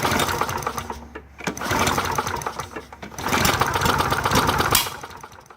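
A small engine with a carburetor runs while the machine sits tilted at an angle, giving a loud, buzzy, uneven putter that dips briefly and surges back, heard close with no speech.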